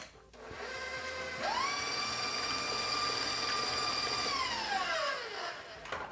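An electric hand mixer whirs through applesauce cake batter, a steady motor hum that ramps up in pitch, runs evenly for a few seconds, then winds down, close and alone without voices.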